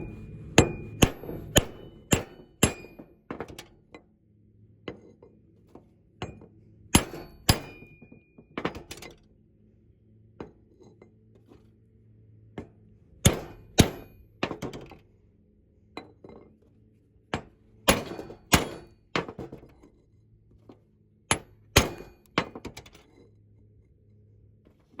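A hammer strikes a flat steel bar to seat a part into a Ditch Witch hydraulic cylinder, with clusters of sharp metallic blows in bursts separated by pauses and light clinks.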